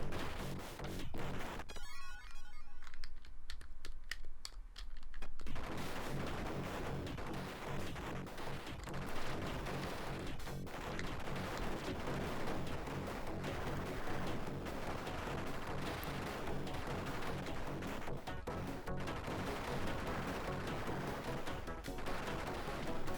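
In the video game Ultracore, gunfire sounds as a dense, continuous barrage of rapid shots and explosions, heard loud and steady with no talk.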